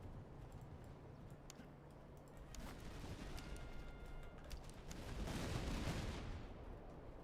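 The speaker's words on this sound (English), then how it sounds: "I'm gonna fire the artillery," Artillery in a strategy game set in the era of marshals and national armies fires in scattered, muffled booms and crackling volleys, faint at first and swelling into a louder rumble near the end.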